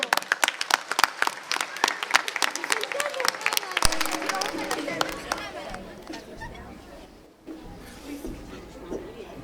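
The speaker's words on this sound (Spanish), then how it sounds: "Con todos vostedes, O coro! Un fuerte aplauso." A school audience greets a Salesian choir at a Christmas carol performance with loud, dense applause mixed with cheers and crowd chatter. The clapping fades after about six seconds into murmuring voices.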